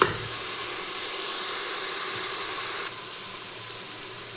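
Ginger, about 100 grams, frying in a pan for chicken mandi, giving a steady close hiss of sizzling oil that holds evenly throughout with no talking.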